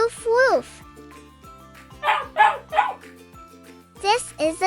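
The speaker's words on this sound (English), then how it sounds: "Here comes a dog." A dog barks and yips in several short bursts, interleaved with a few whimpering tones, over steady background music in a children's animal-sounds lesson.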